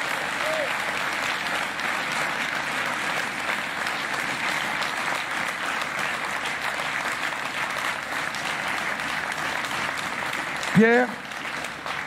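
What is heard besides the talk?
audience applause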